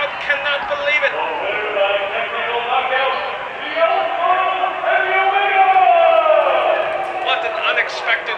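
A fight crowd erupting in a loud, sustained roar of cheering and shouting as the bout ends, with a commentator talking over the noise.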